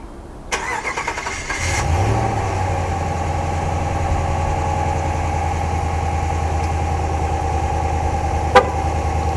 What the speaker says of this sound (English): you're going to actually hear the vehicle start